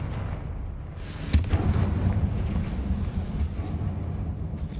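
A Confringo blasting spell in Hogwarts Legacy bursts with one sharp explosive crack, then a rumbling blast that rolls on at moderate loudness under the game's ambient noise.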